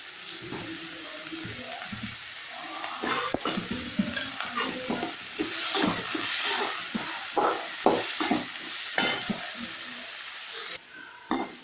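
Snake gourd sautés in oil with salt for a chutney. Close, repeated spatula scrapes and stirring knocks sound over a soft, continuous sizzle, with occasional sharper clacks.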